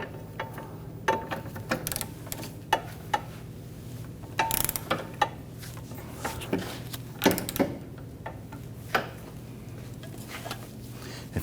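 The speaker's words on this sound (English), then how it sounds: "Torque this to 110 foot-pounds" A torque wrench tightens a control arm bolt on a 2011-2015 Kia Sorento, giving a series of sharp ratcheting clicks and metallic knocks spread irregularly through a quiet garage.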